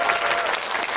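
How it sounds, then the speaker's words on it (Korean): Audience applause at a special film screening Q&A, a dense continuous burst of clapping from a seated crowd filling the whole moment. "내가 엄태하를 응원한다면 박수 한번 보내주십시오"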